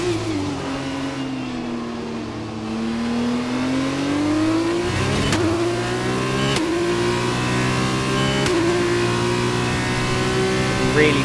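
An F1 car engine in the racing game F1 2021 revs hard and close, its pitch rising and dropping across the run, with three sharp gear-change steps and a steady high whine.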